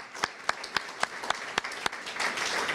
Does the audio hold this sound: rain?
no